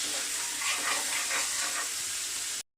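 Sea crabs are sautéed with spices in a pan, producing a steady soft sizzle with faint stirring, moderately quiet, before cutting off abruptly.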